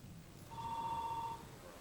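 A single electronic telephone ring sounds in an empty office, a brief steady tone that is faint against a quiet room background.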